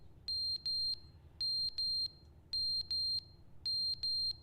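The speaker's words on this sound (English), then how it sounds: "the smoke alarm's going off" A smoke alarm in The Stanley Parable video game sounds off in repeated pairs of sharp, piercing electronic beeps, four double-bursts in quick rhythm, loud and clear over a faint low hum.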